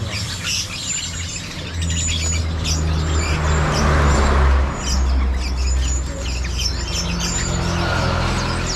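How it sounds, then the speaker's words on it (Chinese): A woodpecker calls among many caged birds at a roadside bird shop in East Java, giving repeated thin chirps over a busy mix of other birdsong and low traffic rumble. "啄木鸟也开始叫啄木鸟"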